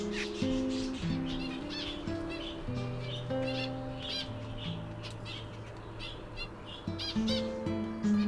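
Zebra finch chicks and adult finches chirp in a garden aviary after a night of heavy rain, with repeated short tweets and calls near and far over a soft background; a person speaks briefly.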